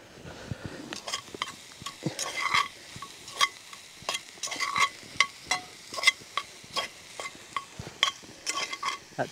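Food seasoned with cumin stirred in a pan over an open bush campfire, heard as a regular series of sharp utensil scrapes and clinks over a faint sizzle.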